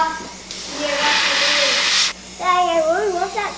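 An airbrush lays overspray on a big twitch bait lure being painted as a shiny walleye, a close, steady hiss lasting about a second and a half, with faint voices around it and someone talking right after.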